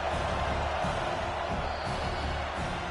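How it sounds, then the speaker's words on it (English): A stadium crowd in the College Football 26 video game roars steadily as a dense, continuous wash of cheering that fills the background for the whole stretch, with a faint voice underneath. "Listen to the crowd energy here in the early going."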